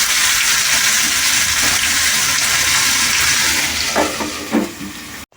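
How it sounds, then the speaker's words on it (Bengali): Mixed vegetables being stirred in a pot and set to boil, a steady close hiss of moisture and cooking noise, with a few spoon clinks and scrapes near the end before it cuts off. "এখন এটি আমি নেড়ে নিয়ে সেদ্ধ করতে বসাই"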